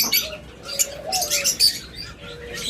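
A pair of green opaline budgerigars chirping nearby, short bright tweets and calls scattered across a few seconds, with soft fluttering.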